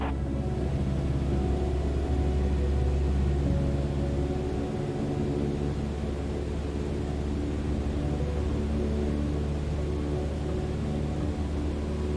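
A small single-engine aircraft in Microsoft Flight Simulator drones with a steady, loud low rumble and layered harmonic hum, holding at a cruise power setting with a slight dip midway, continuous throughout and no voices.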